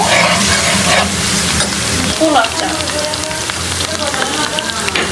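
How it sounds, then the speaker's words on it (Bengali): Chopped onion and chicken pieces sizzling in hot oil for chicken biryani, a loud, dense crackle with stirring scrapes partway through and no talk. "চিকেনটা একসাথে ভেজে নিব একটু ভাজাও হবে সাথে আর পেঁয়াজটাও ভাজা হবে সাথে"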